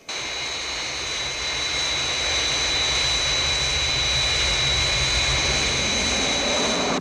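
The Fireflash airliner's jet engines drone steadily on final approach, a TV-show sound effect with a constant loud roar and a sharp whine layered on top for several seconds.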